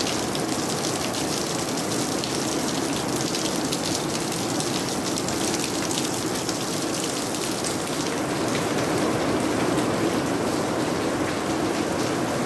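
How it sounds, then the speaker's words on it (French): Steady heavy rain drums on a roof overhead, a dense continuous hiss and patter at constant loudness, with no voices. "évidemment, il pleut"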